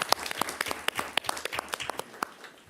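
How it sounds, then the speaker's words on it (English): Scattered applause in a county commission meeting room as staff are honored, a small group clapping with sharp, distinct claps, moderately close and fairly quiet. "Let's give them a round of applause."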